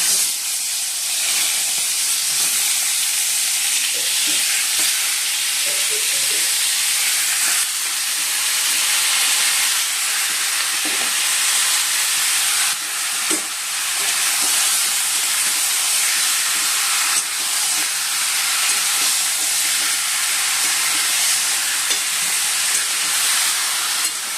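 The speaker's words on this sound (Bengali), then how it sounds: "এই তেলেতে আমি চিকেনগুলো একটু ভেজে নেব" Chicken pieces frying in oil in a home kitchen make a loud, steady hiss and sizzle that runs unbroken throughout, with no voices.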